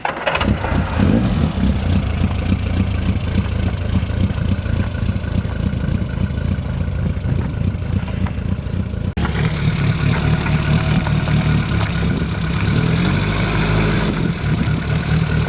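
A classic Mini's engine runs steadily and loudly up close as the car drives up a street, its low mid-pitched drone continuous throughout with a slight change in tone partway through.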